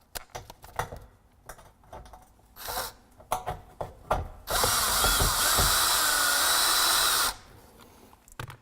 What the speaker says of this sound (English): attach the panel, screwing it into the kidney slot halfway, so that the panel can work freely